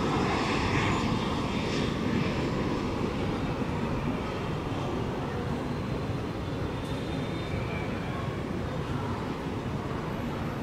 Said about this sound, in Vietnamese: Chiếc máy bay Cessna này thì sẽ hạ cánh xuống sân bay Tân Sơn Nhất